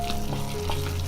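A lotus root filling of chopped scallions, soy sauce, salt, pepper, starch and cooking oil is stirred in a bowl, giving a brief, close, wet churning and scraping sound.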